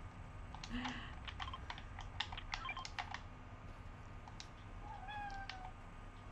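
A pet cat meows several times close to a streamer's microphone while computer keyboard keys clatter steadily, with a rising chirpy meow near the end.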